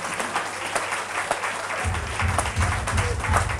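A church congregation bursts into applause at a Sunday service, the clapping swelling from a steady patter into fuller, denser clapping partway through, heard at moderate distance in a reverberant room.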